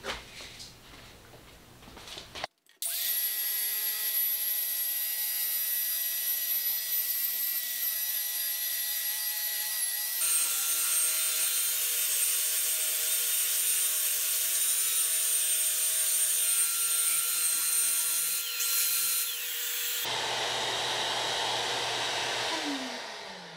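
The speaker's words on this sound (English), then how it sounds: "Now I'm going to be using a wire wheel, restoration tool." A wire wheel restoration power tool runs steadily against wood to distress it, giving a loud, continuous whirring grind that holds for about twenty seconds, with a brief change in pitch partway through.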